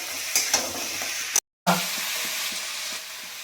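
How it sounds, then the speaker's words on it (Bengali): Tomatoes are stirred into a sizzling egg chicken curry, with a spatula scraping the pan over a steady frying hiss; the sound cuts out briefly, then the sizzle and soft stirring knocks resume. "টমেটোটা দিয়ে ভালো করে নেড়ে নিই।"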